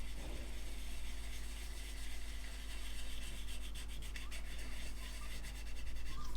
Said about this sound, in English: You just need a piece of fine wet and dry. Come and sand it.